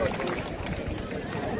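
Audience applause at an outdoor folk music festival in Mogila, a dense steady wash of many hands clapping with crowd murmur underneath, continuous and fairly loud throughout.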